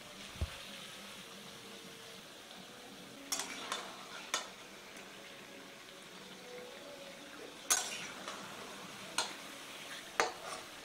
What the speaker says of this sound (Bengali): তেলটা ভালো করে ছড়িয়ে দিয়ে চিকেনগুলো ভেজে নিচ্ছি।